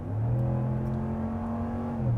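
A 2026 Ram 1500 pickup's Hemi V8 engine and exhaust hum steadily while cruising, a smooth, low, even drone heard from inside the cab with no voices.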